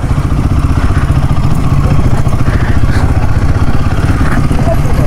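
A motorcycle engine runs steadily and loud with a rattling mechanical clatter throughout, on a trip to Kaiwara Betta in Kolar.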